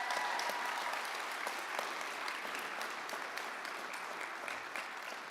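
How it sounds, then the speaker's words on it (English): Sustained audience applause at a respiratory therapy pinning ceremony celebrating the first graduates, a dense steady patter of many hands clapping at moderate distance, continuing evenly throughout with no talk. "How about a round of applause for that?"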